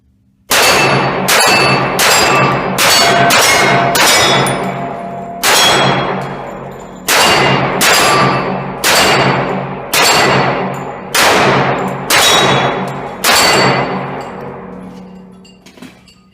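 A Para Ordnance handgun fired at steel targets outdoors, with sharp, loud shots in irregular clusters, each followed by a ringing metallic clang from the target, with pauses between strings and no talk.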